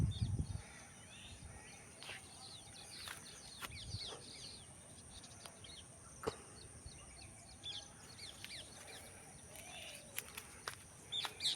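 Small birds calling around a dragon fruit farm, scattered faint chirps and tweets at a distance over a quiet outdoor background, with occasional brief knocks.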